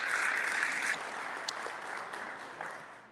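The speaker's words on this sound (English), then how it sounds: "So give yourself a round of applause." Audience applause at a district town hall meeting, a soft, even patter of many hands clapping that fades gradually over a few seconds.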